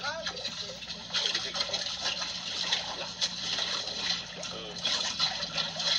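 Water splashes and trickles into a crowded container of freshly caught fish, a steady watery wash with brief surges, while a person talks over it.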